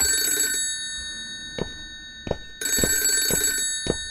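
Two loud bursts of an old-style telephone bell ring out in the ALONE video game, separated by a pause filled with sharp knocks and thumps, over a constant electronic hum.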